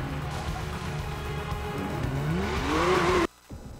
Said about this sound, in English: To start the race, pull up to the checkpoint and spin your wheels.